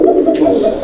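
Raj-golla pigeon cooing close by in a steady, continuous throaty coo with slight pulsing rhythm, heard alone.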